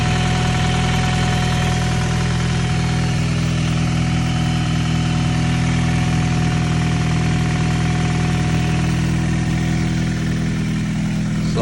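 Honda Prelude, a 1998 model carrying a swapped F20B engine and a full exhaust, idles with a loud, steady, deep rumble and even hum that never changes, close by and without talk.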